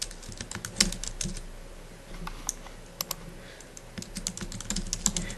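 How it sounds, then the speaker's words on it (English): Someone types a message on a computer keyboard, with steady clusters of quiet, close key clicks and taps that come in irregular bursts, alone without talk. "So I'm going to type a message here."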